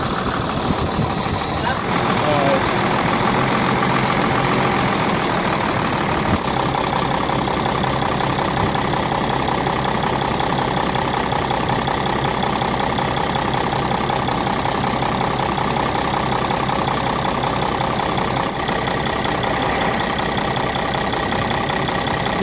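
A diesel engine with a suspected crankshaft bearing or connecting rod fault idles in neutral, a steady continuous rumble running throughout at close range with a brief shift early on.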